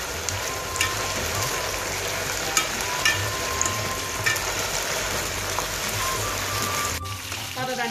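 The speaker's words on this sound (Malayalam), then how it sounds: "ഈ ഉപ്പും എണ്ണയും കൂടെ കിടന്നിട്ട് ഈ ഓയിലിൻ്റെ പത പറ്റുന്നിടം വരെ നമ്മൾ ഇളക്കി കൊടുത്തുകൊണ്ടിരിക്കണം" Banana chips frying in hot salted oil, a dense steady sizzle close up, with occasional scrapes and clinks as they are stirred in the pan.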